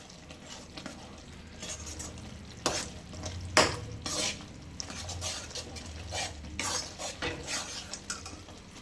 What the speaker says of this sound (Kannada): ನೋಡಿ ಎಣ್ಣೆ ಬಿಟ್ಕೊಂತೈತೆ. ಚೆಂದಾಗಿ ಫ್ರೈ ಮಾಡಬೇಕು.